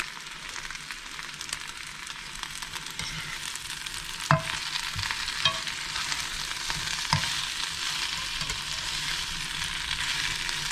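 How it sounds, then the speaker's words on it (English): Chard leaves sauté in a pan for a vegan pasta primavera, a constant close hiss of frying with three sharp utensil clicks against the pan partway through, no talking. "Now just saute this for, it won't take much longer, but the chard will basically wilt"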